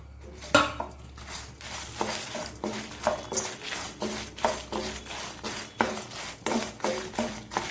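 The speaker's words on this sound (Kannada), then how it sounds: "ಈಗ ಇಲ್ಲಿ ಈ ಕೊತ್ತಂಬರಿ ಮತ್ತು ಜೀರಿಗೆಯನ್ನು ಹಾಕ್ಕೊಳ್ತಿದ್ದೇನೆ" Spices like coriander seed and cumin go into a pan while cooking a Mangalorean small mackerel gravy, giving a series of light clinks and scrapes of utensil on cookware, steady and close, with no talking.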